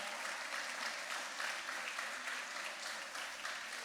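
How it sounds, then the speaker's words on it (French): Audience at an evangelical concert with a Baptist church choir applauding, a steady wash of clapping heard fairly faintly and evenly throughout. "Applaudissez encore,"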